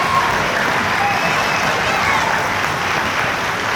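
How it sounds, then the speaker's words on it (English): Audience applause at a middle school winter concert, a dense steady wash of clapping from a crowd that holds evenly throughout. "I'd just like to give a round of applause for Keegan Washington."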